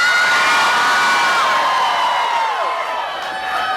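A festival crowd at an outdoor San Francisco street fair screams and cheers loudly and continuously, dense massed high-pitched shrieks and whoops filling the whole few seconds at close range.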